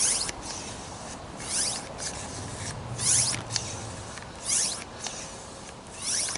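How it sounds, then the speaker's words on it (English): Handheld pump inflating a basketball, giving soft, regular rubbing strokes repeated about every second and a half, faint and close, with a low hum underneath. "I'm simply going to operate the handheld pump here"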